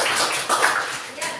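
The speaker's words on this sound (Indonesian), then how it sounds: "Tepuk tangan dulu." A short stretch of group applause in a classroom, a dense patter of many hands clapping at once, fairly loud and continuous.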